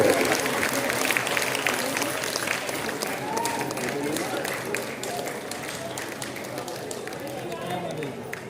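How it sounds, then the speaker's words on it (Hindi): A gathered crowd gives loud, sustained applause at an event, the clapping running continuously beneath a voice talking over it. "जोरदार तालियां भाई, तालियों में कंजूसी ना करें"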